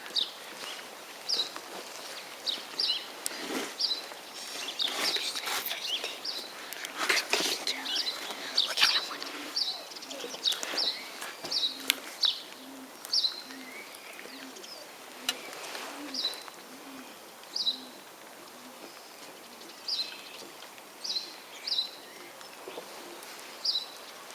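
A turtle dove repeats low, soft coos near hunters during a wood pigeon hunt outdoors, mixed with scattered higher chirps and brief wing flutters at moderate distance.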